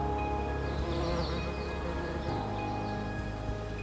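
Bees foraging on manuka flowers in a coastal setting sheltered by mountains, a dense continuous buzzing hum of many insects close by, steady and unbroken throughout.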